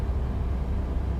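A Detroit Diesel V12 from 1938 in a truck in American Truck Simulator drones as a low, steady engine rumble, constant and fairly faint, with no talking.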